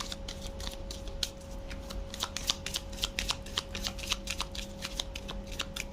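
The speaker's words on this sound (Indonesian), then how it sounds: "Sebelum mulai kita keluarkan beberapa kartu orakel agar kita mendapatkan bacaan yang lebih lengkap" Oracle cards being shuffled by hand, a rapid run of crisp riffling flicks and snaps close up, irregular but continuous, with a faint steady hum underneath.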